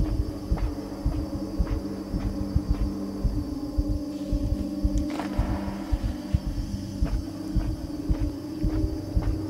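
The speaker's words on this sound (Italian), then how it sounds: "Sentite il rumore del cuore che batte." A heartbeat from the video game Inside pulses as steady, evenly spaced low thumps over a continuous droning hum, with a brief louder swell partway through.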